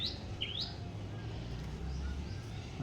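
Punjabi-breed pigeons in a home loft give faint chirps and soft calls over a steady low background hum, with a couple of brief rising tweets early on.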